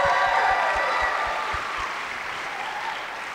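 A crowd at a community dance fundraiser claps for dancers Kat and JJ, a dense round of applause that starts strong and gradually thins and fades over a few seconds.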